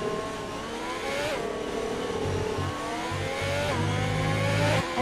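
Ferrari Formula 1 car in an F1 racing game, its high-pitched engine whining and revving up through gear changes around a chicane, a continuous moderately loud mechanical scream with shifting pitch.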